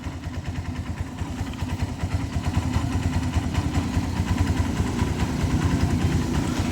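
A Kawasaki Barako motorcycle engine idles steadily with its idle raised slightly, a continuous low, throbbing putter that builds a little louder and holds without pause.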